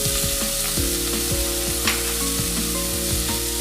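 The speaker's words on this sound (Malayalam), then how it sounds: "എണ്ണ ചൂടായി വന്നിട്ടുണ്ട്. നമ്മളിപ്പോൾ അരിഞ്ഞു വെച്ചിരിക്കുന്ന സവോള ആഡ് ചെയ്യുകയാണ്." Chopped onions, garlic and a chicken stock cube hit hot oil in a pan for oats soup, giving a loud, close, continuous sizzle with brief scraping stirs, no voices.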